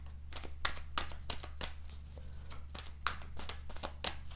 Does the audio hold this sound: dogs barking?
no